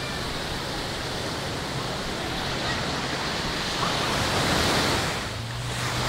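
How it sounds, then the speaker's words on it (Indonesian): Surf washes steadily onto the beach at Pantai Lipo, Carita, in rough weather, a continuous broadband roar blended with wind noise, swelling slightly near the end. "Saya di belakang Pantai Lipo atau berada di kawasan Pantai Lipo sekarang"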